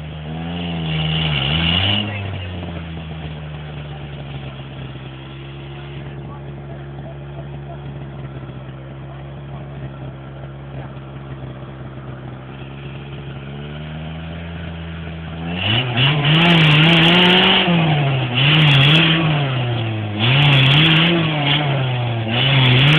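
An off-road vehicle's engine drones steadily as a tire spins and digs a pit, then revs hard in repeated surges near the end while people talk over it.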